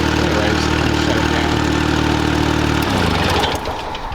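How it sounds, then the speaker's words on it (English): Liquid-cooled Kubota engine on a Grasshopper zero-turn mower idling steadily up close, a loud even drone that shifts and drops as it begins to wind down near the end. "This has a certain tone and just a certain sound that you can't really get with any other engine option in any of these mowers"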